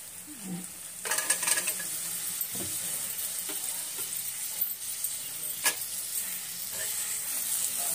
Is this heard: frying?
yes